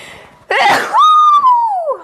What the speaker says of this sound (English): Don't sneeze on the burgers.